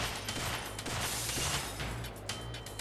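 Gunfire in the PS1 game Syphon Filter 2 during the Volkov Park mission, where snipers are firing: a dense, noisy burst of shots and crashes lasting about three seconds, loud and close, with no talking.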